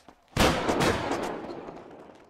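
A single gun salute volley fired in a GTA roleplay game on the Cidade Alta server: one loud, sharp crack that rings out and decays slowly over two seconds, with no talking.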